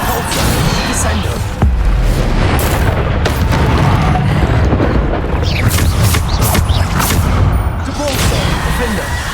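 Spell impacts from the Hogwarts Legacy video game, including Descendo and Repulsor, crash as loud, dense booms and blasts in steady succession, layered over constant combat noise for several seconds.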